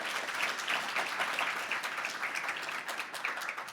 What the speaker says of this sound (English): Applause once more to Jessica.